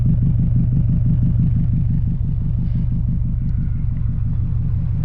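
Subaru STI with a stainless exhaust tip, engine and exhaust rumbling steadily while driving, a loud, close, pulsing low drone that holds even throughout.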